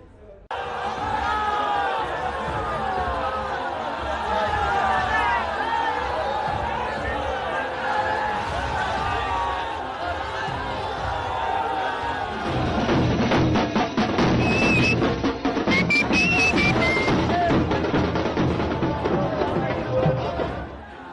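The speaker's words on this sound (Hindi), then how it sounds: "हजारों की संख्या में लोग इस रोड शो में मौजूद थे।" A dense crowd of thousands at a politician's road show in Bolpur, Birbhum, West Bengal, heard as a loud, continuous babble of voices and cheering that turns rougher and busier partway through, with whistles and a voice talking over it.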